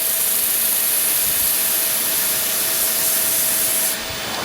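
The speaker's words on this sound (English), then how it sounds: "And we can just sand down in here." Sandpaper rubbing steadily against a natural-edge wooden bowl, a continuous, close, fairly loud abrasive hiss that eases off near the end, with no speech.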